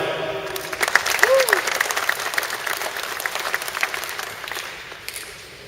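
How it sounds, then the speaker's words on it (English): A crowd applauds a bricklayer, Brian Light, at a public bricklaying event: steady broadband clapping runs through the whole stretch, with a brief tonal voice or whistle near the start, fading slightly at the end. "let's give a big round of applause to a true professional, Brian Light."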